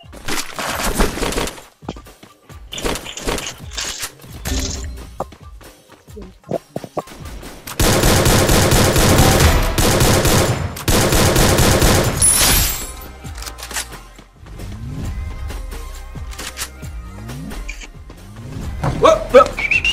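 Bursts of gunfire from the Free Fire battle royale game during a tournament match, with dense, loud automatic volleys and single shots coming in clusters, plus some breaking and shattering sounds between them.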